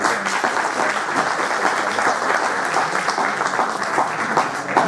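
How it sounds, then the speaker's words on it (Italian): An audience at an award ceremony applauds before an interview, a lively, continuous round of clapping with individual claps audible, fairly close and steady throughout with no talking. "Un applauso."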